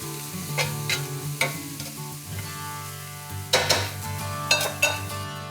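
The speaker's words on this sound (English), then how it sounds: "Once you get your bacon brown, turn it up to full." Bacon fries over full high heat in a pan, giving a steady close sizzle with low hum, broken by sharp stirring and scraping bursts and clinks of a utensil against the pan.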